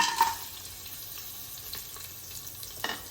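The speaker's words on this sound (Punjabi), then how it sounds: "ਘਿਓ ਗਰਮ ਹੋਣ ਤੇ ਆਪਾਂ ਇਹਦੇ ਵਿੱਚ ਜਿਹੜੀਆਂ ਬੜੀਆਂ ਛੋਟੇ ਪੀਸ ਕਰਕੇ ਰੱਖੇ ਸੀ ਕਿ ਭੁੰਨਣ ਵਾਸਤੇ ਪਾ ਦੇਣੀ" Small pieces of lentil vadiyan frying in hot desi ghee for Amritsari aloo vadiyan curry, a soft steady sizzle with light crackles and a few stirring scrapes close by, no talking.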